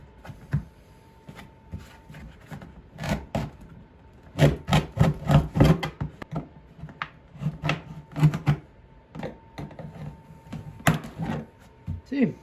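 An old plastic sled is cut by hand to make a hole, outdoors in freezing weather. Irregular bursts of rasping cutting strokes come close up, with short pauses between runs.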